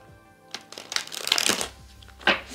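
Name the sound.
playing cards being shuffled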